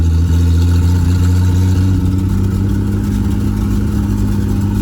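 A Datsun 240Z engine pulled from a junkyard runs loud and close, a continuous uneven mechanical drone with clattering texture and slight rises in revs, no voices.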